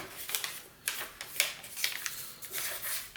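Paper being creased and folded into an origami celebration crane, a series of crisp crackles and rustles at irregular intervals, close and fairly loud.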